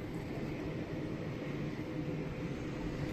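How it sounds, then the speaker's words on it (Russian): A train rumbles steadily in the distance at night, a low continuous drone heard from a balcony with no talking over it. "Гудит там поезд."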